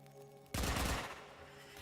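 Video game gunfire from Warframe, a sudden loud burst of rapid firing that starts abruptly and keeps rattling on before easing slightly, with no talk.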